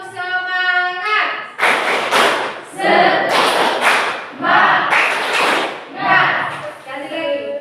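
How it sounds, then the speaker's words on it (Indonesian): A group performs the rhythmic Indonesian 'tepuk semangat' spirit clap at an education event, loud clap bursts in a patterned rhythm after a voice calls out the cue, with voices mixed into the claps. "Tepuk semangat"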